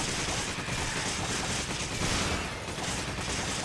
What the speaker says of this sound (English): I'm just shooting the damn metal bar.